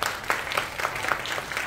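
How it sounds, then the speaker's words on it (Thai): An audience claps for a Thai band at a live event, a brisk, fairly close burst of applause with distinct clustered claps, no talking over it. "ขอเสียงปรบมือให้น้องด้วยครับ"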